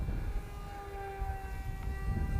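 A twin-motor RC plane, a converted Lidl mini model, runs at half throttle in windy weather, giving a steady close electric whine with layered tonal hum over low wind rumble.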